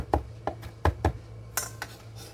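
A knife chops fresh parsley on a cutting board for eggplant rollatini filling, giving a handful of sharp, close, irregular knocks over about two seconds.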